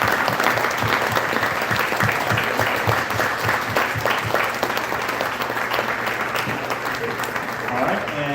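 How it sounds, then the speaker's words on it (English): Sustained audience applause fills a school sports awards banquet hall, dense clapping from many hands at close range, steady throughout with faint crowd murmur underneath and voices mixed in. "let's give everyone a round of applause again for a great school year."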